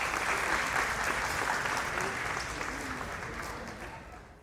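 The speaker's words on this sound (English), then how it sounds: "Kindly give a huge round of applause for our respected managing director, Spinal sir." A school annual-day audience bursts into dense, sustained applause for the managing director, a full wash of clapping that holds steady and then gradually tapers off.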